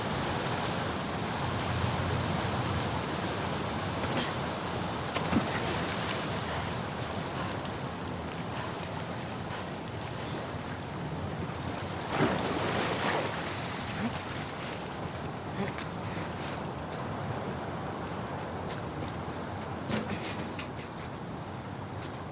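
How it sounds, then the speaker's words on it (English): Fast-flowing torrent of water in the sewers of The Last of Us Part II, heard as a steady, broad rushing roar that holds at a constant level throughout, with faint splashy surges and no talking. "the player was faced with a fast-flowing torrent of water they couldn't cross"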